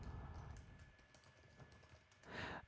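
Typing on a computer keyboard, with quick irregular key clicks running throughout. The clicks are close but faint and there is no talking.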